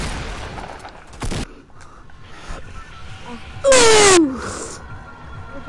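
Shotgun blasts in a video game, a sharp broadband shot near the start and a louder one later followed by a whooshing tonal sweep, with faint game noise between.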